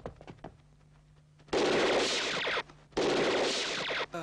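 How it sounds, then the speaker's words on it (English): Cheesy machine-gun sound effect from the action film The Stabilizer: two loud, sustained rattling bursts of rapid fire separated by a short gap, with faint clatter before them and no talk. "It has like the dumbest machine gun sound effect."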